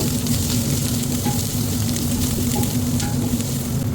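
Curry leaves, green chili and spices fry in a pan with a steady, dense sizzle that holds loud and close for the whole stretch, with no voices.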